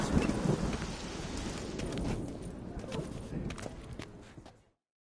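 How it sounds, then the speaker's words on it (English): Thunderstorm with heavy rain in The Witcher 3, a loud rolling rumble of thunder over a steady wash of rainfall that fades away near the end, with no speech. "The storm, damn it."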